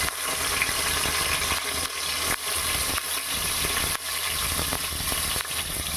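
Chopped onions and green chillies hit about two spoons of hot oil for a catering-style brinjal and peas curry, giving a steady, dense sizzle and crackle that holds at an even loudness from start to finish, with no voices over it.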